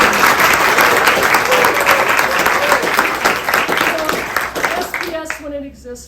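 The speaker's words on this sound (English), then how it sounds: "We need to give another round of applause for Kate." Lively, close applause from a talk audience, many hands clapping with some cheering voices, tapering toward the end as a speaker begins talking.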